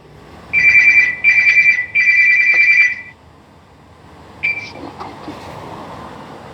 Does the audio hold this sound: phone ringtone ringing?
yes